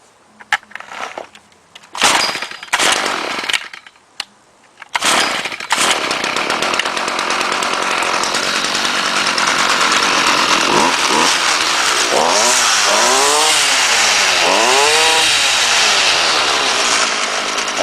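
Homelite Mightylite 26SS string trimmer cold-starting on choke: a few sharp pull-start bursts and sputters, then the small two-stroke engine catches and runs steadily and loudly up close, with rising and falling revs near the end.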